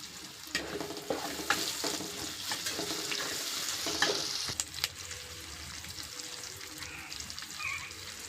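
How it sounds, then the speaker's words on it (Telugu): Curry leaves for a taro curry sizzle and crackle in hot oil at close range, a steady frying hiss with scattered sharp pops and brief stirring clatter, fairly quiet. "ఏమో కరివేపాకు వేసుకుందాము."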